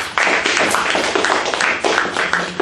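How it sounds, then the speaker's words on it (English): A church congregation claps together in one dense, steady burst of hand claps lasting a couple of seconds, loud and close. "Give one big hand clap to Jesus."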